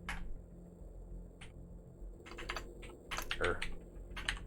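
Quick bursts of keystrokes tap on a computer keyboard close by, irregular clusters of clicks with short pauses between them, quiet and alone with no voice over them.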